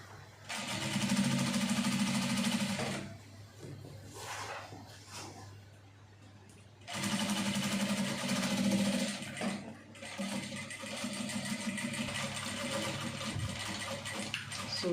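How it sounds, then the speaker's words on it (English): A sewing machine stitches over the bones of an over-bust corset in two long runs, a close, loud, steady whirring hum with a pause between bursts and quieter handling in the gap. "you are sewing on the bones"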